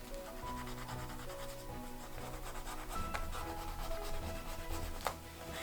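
A cloth rag rubs briskly back and forth along a freshly finished leather edge on a handmade pocket tissue case, a soft, close, continuous scratchy friction sound.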